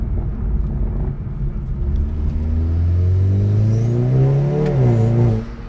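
Hyundai i30N, tuned Stage 2+, with a Milltek full exhaust accelerating hard, a deep continuous engine drone climbing steadily in pitch through the gears, heard close and loud without talk.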